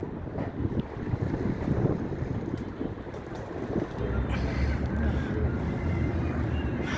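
Sea waves breaking on the beach at Alexandria, with strong wind buffeting the microphone in a constant, loud roar that swells heavier in the second half.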